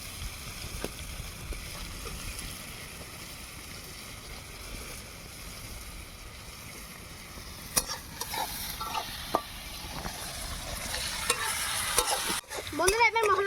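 Tomatoes and onion frying in a pan, a quiet steady sizzle with spoon scrapes and stirring clatter that grow busier and louder toward the end.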